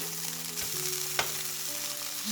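Spicy catfish nuggets frying in a shallow layer of oil in a pan, giving a steady close sizzle with a single sharp clack partway through and no talking.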